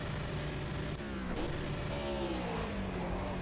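A NASCAR stock car in Project CARS reversing to ram wrecked cars, its engine droning steadily and rising in pitch as it revs, loud and close with no talk.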